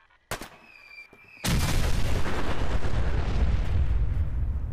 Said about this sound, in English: Want to shoot a mini nuke?